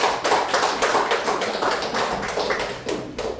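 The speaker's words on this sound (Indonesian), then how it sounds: "Kasih aplaus untuk kelompok" An audience of teachers claps at a school dissemination session, a brief burst of applause that stays dense and fairly loud from start to finish, with no speech over it.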